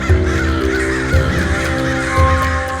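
Several crows caw loudly and close by in repeated harsh calls, with overlapping calls in a steady rhythm.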